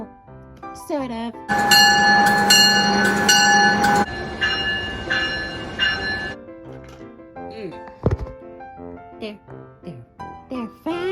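A locomotive bell clangs in a steady repeating rhythm alongside a sounding train horn, then fades as the train passes and other tones follow.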